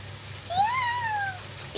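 A voice imitates a cat, giving one drawn-out, rising-then-falling meow, close and clear.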